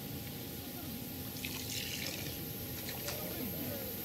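Water trickled into fishing groundbait in a second small addition, a faint dribbling buried under steady broadband outdoor noise.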